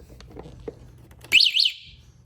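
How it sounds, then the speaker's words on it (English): A short electronic chirp from an electric scooter's battery powering on, two quick high-pitched bleeps close to the microphone, cutting through quiet background hum. "That's a little chirp lets you know that the battery is on now."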